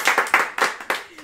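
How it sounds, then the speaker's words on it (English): A short run of hand claps, about six sharp, evenly spaced slaps in quick succession, close and fairly loud, with a trace of voice at the end. "Everybody applaud, please."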